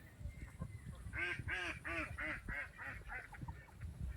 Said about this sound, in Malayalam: ഇത് താറാവുകൾ നടന്നു. ഇത് അവിടെ താറാവുകൾ കണ്ടോ.